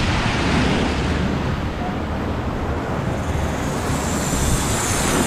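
Continuous loud rushing water and splashing from the Calico River Rapids boat ride at Knott's Berry Farm, with a broad roaring wash and no speech.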